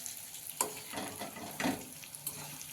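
Green chilies fry in a pan for a yogurt chili dish, with soft sizzling punctuated by several sharp scraping stirs of a spatula, close and moderately loud, no voices.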